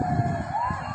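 A fire truck siren wails loudly and close by as the truck arrives at a residential fire in Catmon, Malabon. The rising tone sweeps upward over a low rumble of traffic and engine noise.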